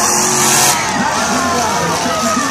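Demolition derby cars roar and grind on the track, engines loud and continuous, while an announcer's voice calls the action over the din.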